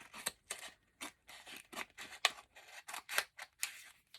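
Scissors snip across magazine or scrapbook paper while a folded pocket is trimmed: about a dozen short, crisp cuts in an uneven rhythm, close and fairly quiet, with no voices.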